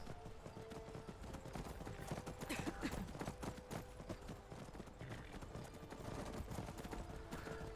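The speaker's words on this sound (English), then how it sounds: "Okay, she is riding a horse." In the video game Skyrim: Dragonborn, a ridden horse's hooves clip-clop in a quick, uneven rhythm, faint and fairly distant, with soft ambient game noise.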